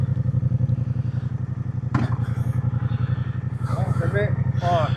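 A 2025 Moto Guzzi Stelvio idles with a steady, throbbing pulse, then a single sharp clunk marks it dropping into gear; someone talks over the engine afterwards.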